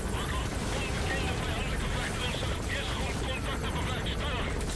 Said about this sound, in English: It's probably the helicopter.